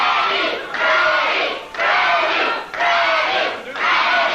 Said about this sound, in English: Crowd cheering him on as Freddie waits for Landell.